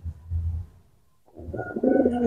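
Racing pigeons being trained, with low, soft cooing up close that fades into a pause, then returns louder alongside brighter, busier calling.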